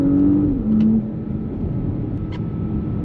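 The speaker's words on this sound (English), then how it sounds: "For some reason the engine is a little more alive." An Audi S5 engine hums steadily at a close, even level, with a brief rise in pitch near the start and no clear sharp revving peaks.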